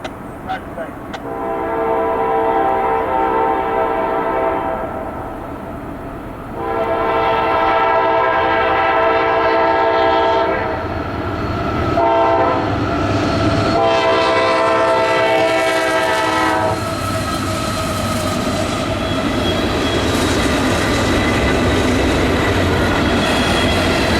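A train rumbles steadily past with a loud, sustained multi-tone horn blowing in long blasts, wheels clacking underneath throughout.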